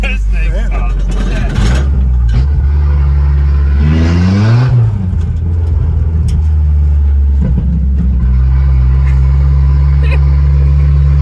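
A Ford Ranger engine with its exhaust cut off rumbles loud and steady close by, its raw low drone swelling briefly in a rev partway through while people talk over it.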